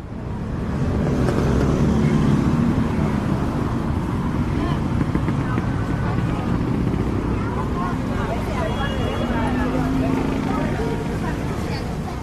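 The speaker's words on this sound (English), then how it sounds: "As this is a very traffic heavy road and it's super rush hour now" Dense rush-hour traffic roars continuously along a heavy road beside Saloma Bridge in Kuala Lumpur, a loud, unbroken engine and tire rumble with wind buffeting the microphone.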